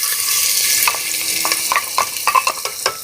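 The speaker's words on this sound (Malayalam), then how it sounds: "നമുക്ക് സബോളയൊക്കെ ഒന്ന് വഴറ്റിയെടുക്കാനുള്ളതാണ്" Chopped onions sizzle in oil inside a pressure cooker while a spoon scrapes and stirs, giving a steady frying hiss broken by repeated sharp clinks and scrapes, loud and close, with no voices.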